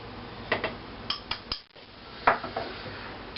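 A flour cup clinks and scrapes against a bowl as flour is scooped in, making several light, close metallic knocks separated by short pauses.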